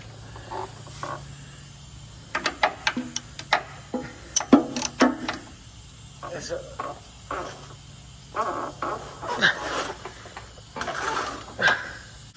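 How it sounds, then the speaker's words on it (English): A wrench works on an engine mount bolt of a Ford F-150 with a 5.0L engine, giving a series of sharp metallic clicks and ratcheting taps in irregular bursts, close and moderately loud over a quiet hum. "we need to use a wrench to remove this one right here"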